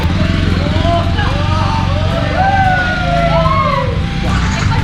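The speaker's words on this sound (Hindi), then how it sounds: "मैं चला रहा हूँ ताहिर का बाइक NS 200" A Bajaj Pulsar NS 200 motorcycle is ridden, its engine a steady, loud low rumble close by while voices talk over it the whole time.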